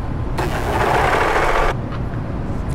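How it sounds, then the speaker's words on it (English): A serger overlocker stitches fabric for a sewing machine cover, a loud, close mechanical whirring burst lasting just over a second, then stopping into the room's background noise. "I'm just going to serger them."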